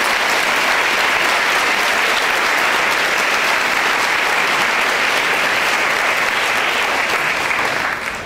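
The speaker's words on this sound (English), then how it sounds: "So I want you to give them a round of applause." A school assembly audience gives a sustained, dense round of applause for teachers, loud and even throughout before easing slightly at the end.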